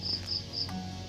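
A cricket chirps in three quick high-pitched pulses, evenly spaced, over a soft steady background hum on a farm.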